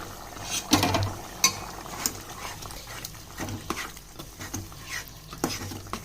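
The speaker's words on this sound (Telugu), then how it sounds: "ఒక్కసారి కలుపుదాం దీన్ని." A spoon stirs Rayalaseema chicken buttermilk curry in a pot, producing scattered scraping knocks and a faint simmering bubble over a low background, with no speech.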